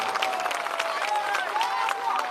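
Crowd applauding and clapping at a political rally, a dense steady wash of many hands with scattered cheers throughout, fairly loud and continuous.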